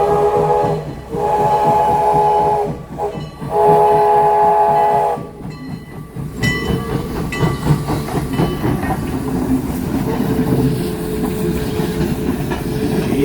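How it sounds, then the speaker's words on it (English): A heritage train's whistle sounds in long steady blasts, then the train rumbles past close by at a station with rhythmic clattering of wheels on the rails. "And this is the reason I came today, is to see this train."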